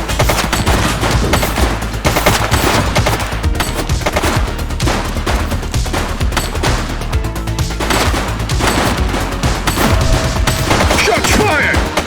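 Dense, continuous gunfire fills a police shootout in The Precinct video game, with rapid overlapping shots and bursts over a loud, busy mix.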